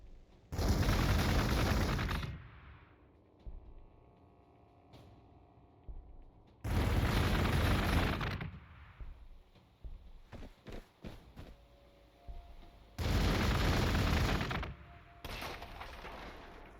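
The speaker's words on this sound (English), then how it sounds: "Got a whole bunch of bolters we can shoot at you." Bolter fire from Sisters of Battle units in Warhammer 40,000: Gladius, loud roaring volleys lasting about two seconds that repeat three times, with quieter clicks and shots between them.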